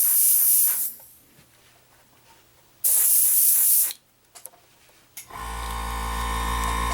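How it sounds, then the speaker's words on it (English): Airbrush bursts hiss loudly in two long sprays separated by quiet gaps, followed by an air compressor kicking on with a steady low hum and whine. "Sorry about the compressor noise."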